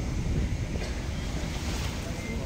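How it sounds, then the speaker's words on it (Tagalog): Ocean waves and strong wind roar at sea aboard a boat, with steady broadband wind buffeting the microphone and continuous surf rushing below it, loud and unbroken and with no talk. "Dito kami sa gitna pa rin ng karagatan."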